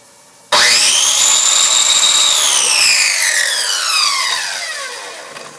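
A power tool cuts through a metal platen, starting abruptly with a loud, close, high-pitched screaming whine that holds steady and then slowly drops in pitch and fades over several seconds.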